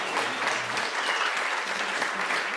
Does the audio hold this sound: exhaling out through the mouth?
no